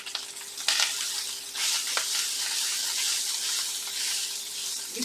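Bean burger mixture sizzles steadily in a pan, a constant hissing crackle with a couple of light clinks from a utensil, no talking.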